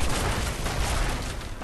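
Cannons roaring in a naval battle in the PSVR game Battlewake, a dense, continuous wash of loud booming blasts that keeps up without a break for the whole stretch.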